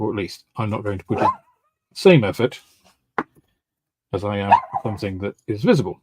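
A small Chinese crested dog gives a few short, sharp yaps indoors, close by, between stretches of someone talking.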